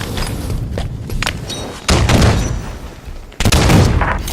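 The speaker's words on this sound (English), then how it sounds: "Throwing grenade." In Halo 5 multiplayer, a thrown grenade detonates amid gunfire, with sharp loud bursts and heavy booms hitting in quick succession over a busy, noisy battle.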